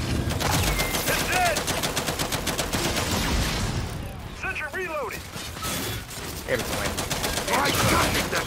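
Dense, continuous gunfire fills a wave 50 Horde match in the Gears 5 video game, with rapid automatic bursts layered with explosions and mechanical clanks, loud and unbroken throughout, while players' voices come through underneath.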